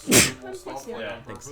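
A single sharp sneeze near the start, close and loud, followed by people talking casually.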